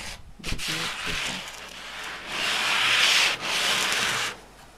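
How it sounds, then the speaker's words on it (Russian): Sandpaper sanding an old wooden country-house door, a close, steady rasping rub in long continuous strokes with a brief dip partway through, heard alone without talk. "Обязательно нужно наждачкой пройтись"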